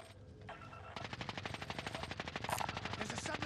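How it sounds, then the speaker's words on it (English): Rapid submachine gun fire in Call of Duty: Warzone, likely the RA 225, bursting loud and close after a brief lull, with a dense sustained rattle of shots over in-game ambience. "There's a submachine gun."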